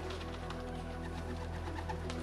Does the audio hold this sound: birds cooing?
yes